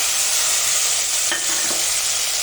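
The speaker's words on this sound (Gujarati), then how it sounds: "થોડું સામાન્ય તેલ આવી જાય ત્યારે વઘાર કરી લેવાનો છે. હવે અંદર ટમેટાં નાખવાના છે" Tomatoes go into hot, lightly oiled tempering for an okra curry, with a steady, close, broadband sizzle throughout and a few soft clicks midway; no talking.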